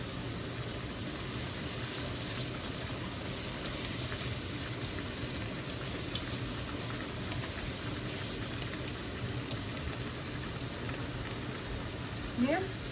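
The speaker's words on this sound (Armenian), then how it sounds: "Եվ չերի լոլիկները։ Թեթև տապակելու ենք։" Cherry tomatoes fry lightly in a pan for pasta, giving a soft, continuous sizzle with faint crackles throughout, fairly quiet and unbroken.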